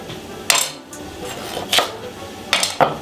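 A yellow kitchen knife chops a rainbow carrot on a cutting board, giving several sharp knocks against the board over steady kitchen background noise, with no voices.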